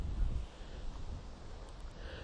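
Gusty outdoor wind rumbles into the microphone during a live horsemanship lesson with two horses at liberty, loudest at the start and then steady, with no talking.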